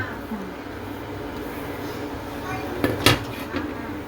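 Ingredients for a rustic Wayanad-style pork curry are mixed together in a cooking pot, with low scraping and a few sharp metallic clinks of a utensil against the pot. A voice talks in the background.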